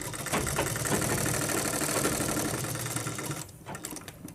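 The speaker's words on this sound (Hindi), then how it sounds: "और यहाँ आप डबल सिलाई मार लें।" Sewing machine stitching a double seam along a blouse sleeve: a close, continuous rapid mechanical whirring that runs steadily for about three and a half seconds, then stops.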